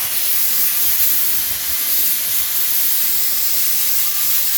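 A pressurised pot blasts soda with air from a 100 litre compressor, giving a steady, loud, unbroken hiss that holds for several seconds with no voices.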